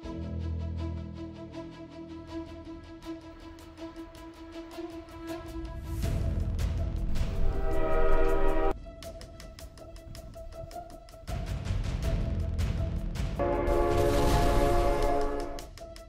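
An approaching train sounds long, sustained horn blasts, repeated and loud, over a steady low rail rumble that swells and eases between the blasts.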